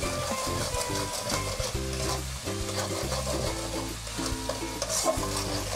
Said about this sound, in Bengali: এটা ভালো করে নাড়াচাড়া করে নিতে হবে